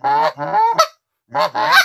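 Goose call imitating a group of geese quarreling on the ground, loud and close: two bursts of rapid overlapping honks and clucks, separated by a short pause.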